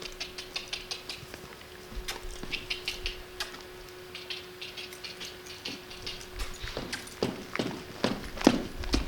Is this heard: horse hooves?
yes